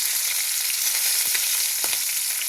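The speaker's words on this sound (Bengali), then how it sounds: "কাটাটা কড়াইয়ে দিয়ে দিয়েছি ভাজতে" Fish bones frying in oil in a kadai give a steady, bright sizzle and crackle, close and continuous, with no voices.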